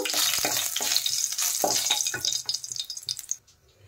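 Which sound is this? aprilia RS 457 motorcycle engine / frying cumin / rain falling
frying cumin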